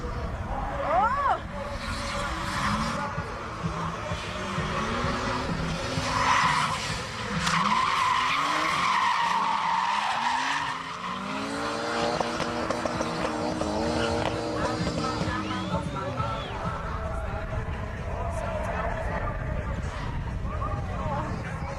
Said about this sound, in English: Local driver Mark Ewer in the R33 does well to hold off this Sylvia in turn 2